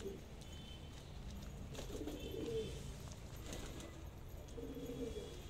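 Patiala breed pigeons coo softly in repeated low, rolling calls, fairly faint against a steady background hum, with a few light chirps scattered through.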